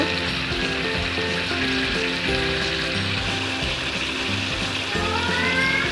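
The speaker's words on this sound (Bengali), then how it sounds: "আম এবং টমেটোটা একটু ভাজা ভাজা করে নেব।" Mango and tomato frying in a pan for a pickle, giving a loud, steady, close-up sizzle that runs without a break and without talk.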